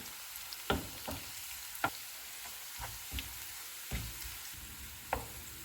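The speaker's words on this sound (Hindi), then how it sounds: "इनको 30 सेकंड तक फ्राई करेंगे।" Red chillies, ginger, cumin, cinnamon, black pepper and cloves fry in hot oil with onions for a dal tempering, giving a soft sizzle broken by scattered crackles and pops and a few stirring clinks.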